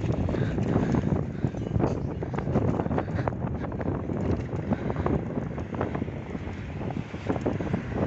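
Strong wind in an oceanside town buffets the microphone with a continuous, loud rumbling roar that never lets up.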